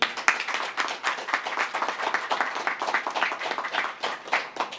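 An audience at a Portuguese-language religious gathering claps in steady, moderately loud applause, with individual hand claps distinct within the continuous patter throughout.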